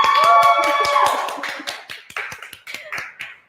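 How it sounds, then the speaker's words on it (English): A burst of applause from a crowd fades out, leaving a few scattered individual claps trailing off. "Give us a round of applause."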